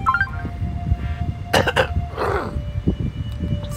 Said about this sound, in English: Excuse the cough, guys.